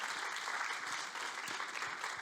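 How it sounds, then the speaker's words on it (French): An audience claps for the first award winner at a trophy ceremony, a dense, continuous round of applause at steady loudness throughout. "Applaudissements pour notre première lauréate."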